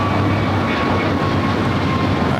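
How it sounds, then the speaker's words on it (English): A Delta A321neo airliner touching down on the south side at LAX gives a loud, steady roar of engine and rushing air, close and continuous for a couple of seconds. "Had a Delta A321neo touchdown here on the south side."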